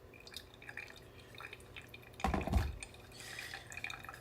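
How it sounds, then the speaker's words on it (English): Hot water is poured at a fast flow rate over ground coffee in a V60 dripper, a quiet liquid splash that swells sharply in the middle and then settles into a softer trickle. "I'm just gonna pour up to 170, sorry. Pouring at a pretty fast flow rate."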